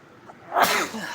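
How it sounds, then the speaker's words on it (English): A single sharp sneeze bursts out after a short quiet intake of breath, close and loud. "The sneezes are coming in."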